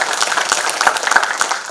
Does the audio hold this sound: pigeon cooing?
no